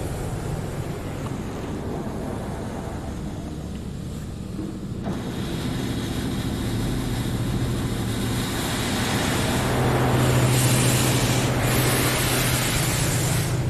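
A Washworld Razor automatic car wash at a Conoco station in Boulder, Colorado sprays product onto a vehicle: a loud, continuous hissing spray over a deep rumble that grows stronger in the later seconds, with no talking.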